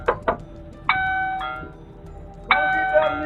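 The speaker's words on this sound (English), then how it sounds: "but nobody answered the doorbell" A Ring doorbell chime sounds from recorded security footage. Two quick knocks come first, then a ringing two-tone chime. It repeats after a pause, bright and clear with lingering tones.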